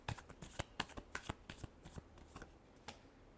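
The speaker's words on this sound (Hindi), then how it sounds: "Last shuffle." Tarot cards are shuffled by hand in a steady run of crisp, rapid riffling snaps, close and fairly quiet, with no talking over them.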